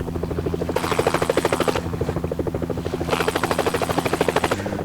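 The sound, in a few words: helicopter flying in Helicopter Simulator 2014 video game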